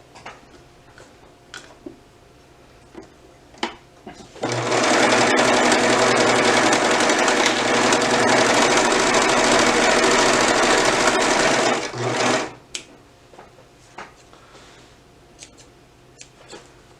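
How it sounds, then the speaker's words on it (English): A serger whirs rapidly and steadily for several seconds, stitching fabric close by, with quiet ticks and handling noises before and after. "when I get to the end, I just serge right off the end,"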